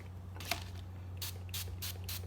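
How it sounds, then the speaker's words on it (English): Olive oil sprayed onto rye bread slices: a few short, close hissing bursts from a spray bottle, the last four in quick succession over a low background hum. "the recipe calls for spraying the bread with a little olive oil"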